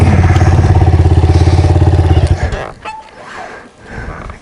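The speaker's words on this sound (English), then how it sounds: "Here comes James on the CRF 230" A Honda CRF 230 dirt bike rides up close and loud with a rapid, throbbing engine note. The engine then drops away into rougher idle and rumbling, with some clatter and a voice in the background.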